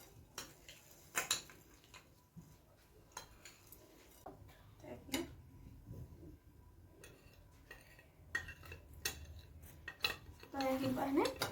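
A pot of rice and spices being stirred at home, with scattered metallic scrapes and clinks of a spoon against the pot, intermittent and close, ending in a louder clatter.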